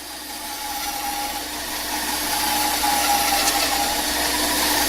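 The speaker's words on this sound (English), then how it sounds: "this is the exact bandsaw that you guys use here" Bandsaw cutting a workpiece, a continuous loud motor hum and rasping blade noise that grows slightly louder partway through, heard close with no talking.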